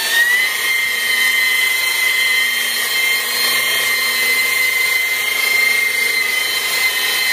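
A rotary polisher runs at about 1500 RPM on a stove surface, giving a steady, close, high whine with a constant drone that holds throughout without pauses.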